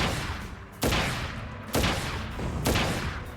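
Gunfire from the video game Crisis Core Final Fantasy VII Reunion, three sharp separated shots cracking over a dense, constant game soundtrack with no voices.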